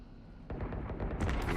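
A smoke grenade launches in a video game with a sudden thump, followed by a rumbling, hissing burst that builds into sharper crackles over about a second.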